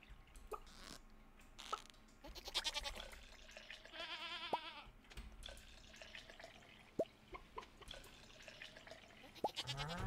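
Farm animals in the Stardew Valley video game, with short bleats and chirpy effects over drip-like plinks and soft game sounds, fairly quiet and with no talk.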